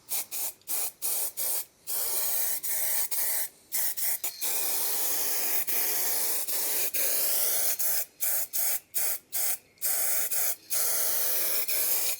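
A spray paint can hisses in repeated bursts over the rear axle of a Golf 2 VR6, close and loud, with short pauses and a few longer sprays in an uneven rhythm.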